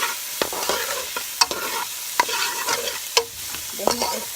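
Chili ingredients get stirred in a hot pot on medium-high heat, with repeated scraping and knocking strokes of a spoon over a constant sizzle, close and fairly loud.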